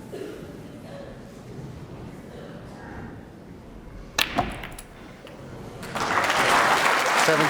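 Snooker crowd at the 2011 UK Championship quarter-final between Judd Trump and Stephen Maguire, applauding a shot: quiet hall ambience and a pair of sharp clicks, then sustained, fairly loud clapping that swells and holds to the end.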